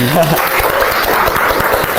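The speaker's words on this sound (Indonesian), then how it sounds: "Kita kasih tepuk tangan untuk diri kita sendiri" A classroom of students at a vocational high school claps for themselves in a brief, dense burst of close applause as a voice trails off at the start.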